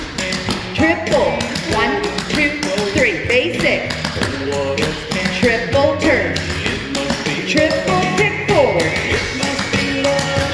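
Rhythmic clogging shoe taps play over loud country music throughout, with quick clusters of taps between steadier beats.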